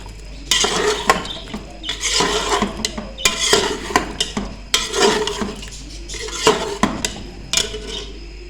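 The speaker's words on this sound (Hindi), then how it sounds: "अब हम इसको मसाले के साथ अच्छे से भून लेंगे" Chicken feet stirred and fried with masala in a pan: loud, close bursts of scraping and clattering from the spoon against the pan, repeating about every second over a soft sizzle, with no talk.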